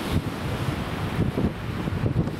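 Winter sea at the beach, with wind buffeting the microphone and low rushing surf in a steady, close, blustery roar.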